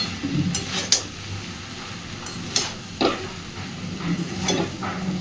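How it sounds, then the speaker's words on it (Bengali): Leftover cooked rice being stirred and mixed for fried rice in a pan, with soft continuous scraping and a few sharper clinks of the spatula against the pan, close and moderately quiet. "খুব ভালোভাবে এবার সব কিছুকে একটু মিশিয়ে নেব।"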